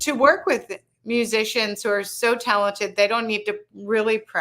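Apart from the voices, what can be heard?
No distinct noise like a dog, phone or traffic.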